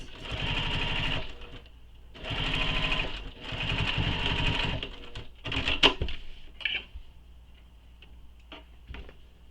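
A sewing machine bastes fabric right sides down, running in three short bursts of fast even stitching separated by pauses, followed by a few light clicks and taps.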